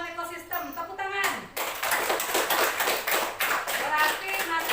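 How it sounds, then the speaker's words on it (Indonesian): Students in an Indonesian classroom break into loud, dense group clapping that carries on steadily after a brief opening stretch of voices. "Tepuk tangan."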